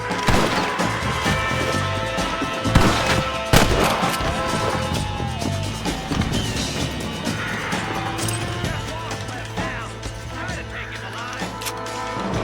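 Gunshots ring out in the Western video game Red Dead Redemption. A few sharp, loud reports punch through busy game ambience while voices talk nearby.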